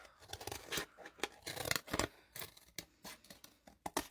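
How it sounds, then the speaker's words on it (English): Scissors snip through cardboard to cut out a curved shape for a yarn-wrapped craft monster, giving a quick, close series of sharp cutting and crunching strokes with short pauses between them. "So sometimes it's hard to get those little curves. So that's what I'm cutting out here."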